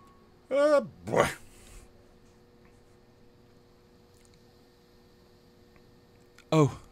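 A dog-like creature in the video game Pokémon Legends: Arceus gives short harmonic growls and yelps, two close together near the start and one more after a quiet stretch.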